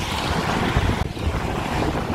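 A strong Amihan wind roars across the open sea around a fishing boat, with loud, buffeting gusts hitting the microphone and the rush of waves underneath.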